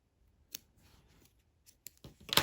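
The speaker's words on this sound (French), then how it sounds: "Et je coupe mon fil." Scissors snipping crochet yarn while a keychain is finished: a few soft, faint clicks and handling noises, then a brief cluster of crisp snips close to the microphone at the end.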